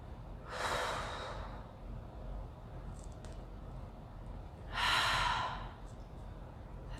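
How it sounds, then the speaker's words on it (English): Deep breaths during a yoga pranayama practice: two long, airy exhalations a few seconds apart, close and soft, separated by quiet. "Keep breathing."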